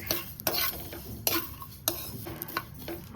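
Mustard seeds and cumin dry-roast in a pan for rasam powder, heard as a faint crackle with light metallic scrapes and clinks from stirring at irregular intervals, no voices.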